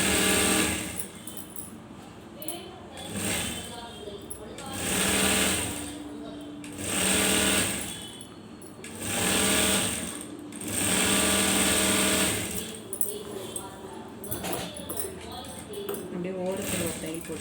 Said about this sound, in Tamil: ஒரு துணி உள்ளே வச்சு அப்படியே மடக்கி தையல் போட்டுக்கோங்க.